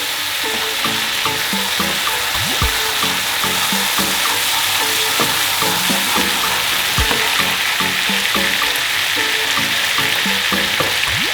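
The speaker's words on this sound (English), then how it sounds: "Give all that a mix around so it all infuses with the butter." Butter and chili paste sizzle and crackle loudly in a hot pan while being stirred, with steady dense frying hiss and scattered scraping clicks of the utensil.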